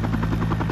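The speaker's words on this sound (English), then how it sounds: "Helicopters are getting water from anywhere they can," A firefighting helicopter flies over ranch canyons during the Alisal Fire near the Gaviota Coast, its rotor beating in a rapid, loud, steady throb with a low engine drone underneath.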